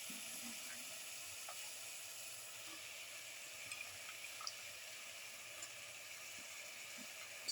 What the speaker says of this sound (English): Saute mix for 2 to 3 minutes.